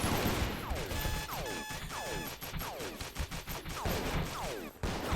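Laser gunfire in the space station game Space Station 14: a rapid, regular series of descending zapping chirps, about two per second, fired continuously and fairly loud.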